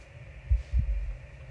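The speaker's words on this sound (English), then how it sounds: "That was another heartbeat." A single deep heartbeat from the horror video game Voyager-19, two close low thuds in a lub-dub pair over a faint steady hum.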